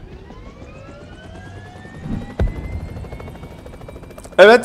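Helicopter in the PUBG Mobile video game, a steady droning rotor and engine hum throughout, with a couple of brief thumps and a loud burst near the end, and someone speaking a single short word.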